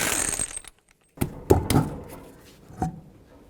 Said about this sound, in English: take the wheel off, 21mm socket, remove all 5 of your lug nuts.